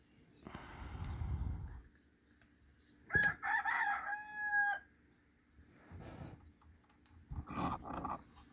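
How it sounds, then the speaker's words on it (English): Chickens and a rooster crow and cluck in the background near an Australian lock being picked: a long crow mid-clip, with scattered clucks and short calls before and after. "Sorry about the chickens."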